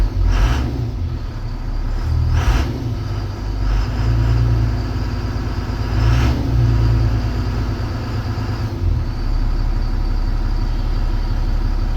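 A 2002 Freightliner FS65 truck's diesel engine idling steadily nearby, a deep continuous rumble with a few brief faint clicks and knocks over it, and no talk.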